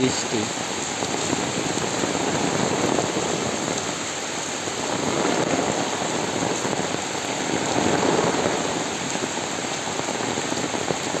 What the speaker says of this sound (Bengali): গ্রামের ভিতরে বৃষ্টি হইলে কেমন দেখা যায় সেই দৃশ্যটাই দেখাচ্ছি আপনাদেরকে